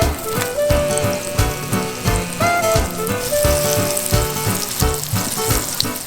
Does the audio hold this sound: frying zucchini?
yes